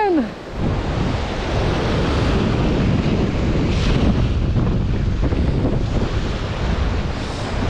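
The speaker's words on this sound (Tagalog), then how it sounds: "Lakas ng hangin." Strong wind blows at sea, roaring steadily over the microphone alongside crashing surf during fishing by boat, loud and continuous after a short voice at the start.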